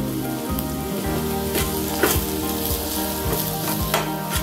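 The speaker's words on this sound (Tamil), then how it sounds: "மசாலா தூள்லாம் போட்டு வதக்கியாச்சு" Masala spice powders sautéing in an oiled pan for tomato kurma give a loud, steady sizzle, broken by repeated scraping strokes of a spatula stirring the mixture, close and without voices.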